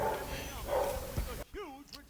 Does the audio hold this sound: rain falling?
no